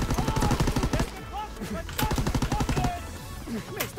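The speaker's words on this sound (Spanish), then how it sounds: "¡Me están disparando!" Rapid bursts of automatic gunfire from a Call of Duty WWII trench battle near a radar bunker, loud, repeated volleys with short gaps and a few single shots, with faint voices underneath.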